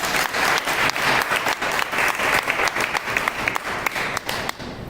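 Sustained applause from a devotional gathering's audience, dense and steady clapping at close range that holds for several seconds before thinning slightly.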